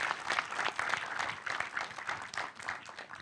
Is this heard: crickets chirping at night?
no